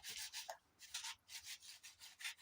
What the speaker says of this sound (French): Quand je gratte, je nettoie vraiment le bol.